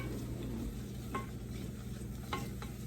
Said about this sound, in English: So I'm slowly adding that a little bit at a time,